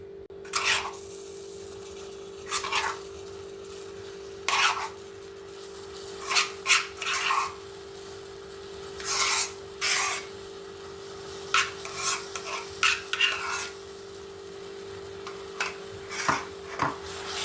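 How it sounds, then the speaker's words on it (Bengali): Amla paste is stirred into melting jaggery in a pan over a low flame, making repeated rasping scrapes in short irregular strokes close by over a steady low hum. "গুড়টার সঙ্গে ভালো করে মিক্স করে নেব"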